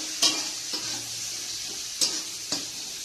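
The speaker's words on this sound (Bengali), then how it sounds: "ক্যাপসিকামের সঙ্গে বিনগুলো দিয়ে দিলাম, একসঙ্গে ভাজা হয়ে গেছে" Capsicum and beans stir-fry together in a pan, a soft constant sizzle broken by a few sharp scrapes and clinks of the spatula against the metal.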